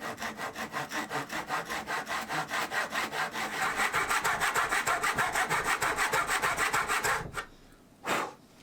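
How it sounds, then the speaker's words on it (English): A thin-kerf hand saw cuts a slot into the head of a knife blade scraper with steady, rapid back-and-forth strokes that build slightly louder before stopping, followed by one short final rasp. "I used that one to make a cut into the head to accommodate the blade"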